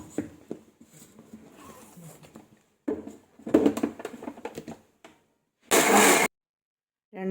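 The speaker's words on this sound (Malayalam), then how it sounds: "ഇതിൽ മൂടിയിട്ട് കൊടുത്ത് നമുക്കൊന്നുകൂടി അടിച്ചെടുക്കണം" A kitchen mixer blends cream into butter for homemade ghee: after scattered clatter and pauses, the motor roars in one loud, dense burst of about half a second, then cuts off.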